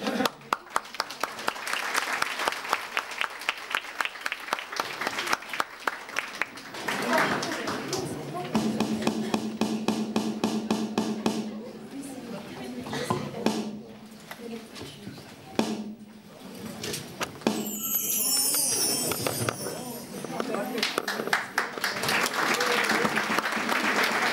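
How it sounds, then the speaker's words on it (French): Audience applause at a French stage show, opening as dense, sharp clapping and giving way to a noisier, mixed stretch with some voices and tapping before clapping swells again near the end. "Donc on va les applaudir bien fort"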